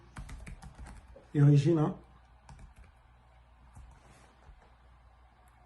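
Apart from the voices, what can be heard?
typing a search on a computer keyboard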